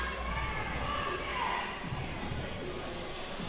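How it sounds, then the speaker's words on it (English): Crowd at a powerlifting bench press meet, the 2022 GPC Australian Powerlifting Nationals, cheering on a women's 75 kg lifter; a steady, dense wash of shouts and encouragement with no break. "As you can hear, all the crowd getting behind her."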